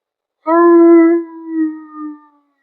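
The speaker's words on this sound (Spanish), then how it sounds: "Oí aullidos lejanos" A single long howl rises, holds, then wavers and fades in two softer swells, clear and alone against silence.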